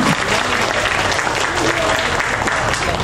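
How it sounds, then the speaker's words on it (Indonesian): Steady, dense applause from a large audience at a school parenting event at SMA UII Yogyakarta, unbroken and loud throughout, with faint crowd voices mixed in. "Boleh saya dengar tepuk tangan semangatnya deh bagi kita semua"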